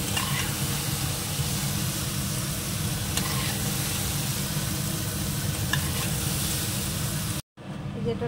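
Food sizzles in hot oil in a kadai, a steady close frying hiss that runs almost without pause, with a brief dropout near the end.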